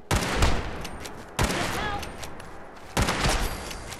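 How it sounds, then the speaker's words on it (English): Gunfire from Fallout 4 combat, with three sharp bursts of shots each ringing out and decaying, spaced about a second and a half apart, loud and close. "Who's shooting me now?"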